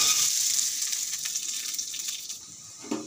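Peanuts frying in a pan give a steady hissing sizzle that slowly eases off, with a faint clatter near the end.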